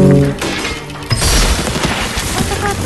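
Archidon archers in Stick War Legacy loosing a volley of arrows, a loud burst of crackling, crashing battle noise that opens with a shout.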